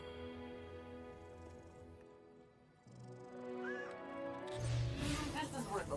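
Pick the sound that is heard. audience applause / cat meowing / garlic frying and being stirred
cat meowing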